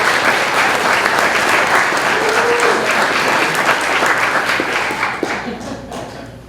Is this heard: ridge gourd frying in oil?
no